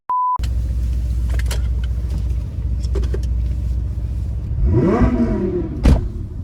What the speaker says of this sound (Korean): 알파의 배기음은 언제 들어도 아.